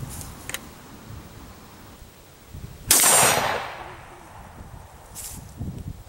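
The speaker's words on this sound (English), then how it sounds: "we're going to go ahead and take a shot at about 20 yards at the red shoot steel target" A homemade 12 gauge shotgun fires once at a red steel target about 20 yards away outdoors, a single sharp blast with a short fading tail, surrounded by quiet rustling.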